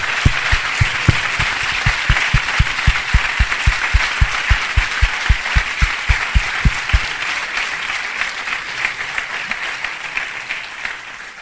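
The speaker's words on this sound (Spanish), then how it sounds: "Un aplauso muy fuerte a ellos." Loud sustained applause from the audience at the closing session of a national prison ministry congress, with a few sharp individual claps standing out in the first seven seconds.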